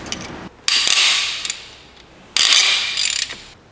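Half-inch ratchet turning bolts during cylinder head removal on an Audi/VW 1.8L engine, heard as two loud bursts of rapid ratcheting clicks separated by a quieter pause, close up with no talking.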